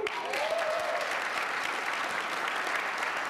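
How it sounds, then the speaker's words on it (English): A studio audience applauds steadily in a dense, even wash of clapping, with a faint voice briefly audible early on. "They're clapping"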